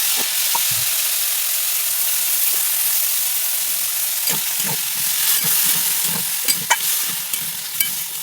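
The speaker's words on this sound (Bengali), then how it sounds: "আলু কটাও একটু ভেজে নেবো" Potatoes and cauliflower frying in oil before poppy seed paste goes in, a broad steady hiss of sizzling with irregular stirring scrapes and clinks picking up in the second half.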